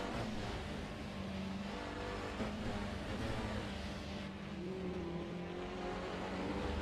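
Toyota and Audi touring cars racing at Imola in the BTCC, with a steady, loud engine drone that rises and falls in pitch as the cars accelerate and shift, heard continuously at a moderate distance.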